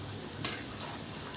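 Cauliflower (gobi) pieces fry in a pan, making a brief, even sizzle close by, with one small click partway through.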